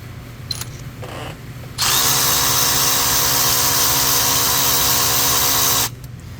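A power tool spins off the 13mm bolts holding the AC compressor on a 2015 Ram 5500, giving one loud, steady whirring run of about four seconds, with quieter shop noise before and after.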